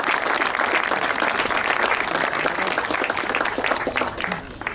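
Audience applause at a 2018 prize-giving ceremony in Wattrelos, a dense, sustained burst of many hands clapping at close range throughout, with faint voices mixed in.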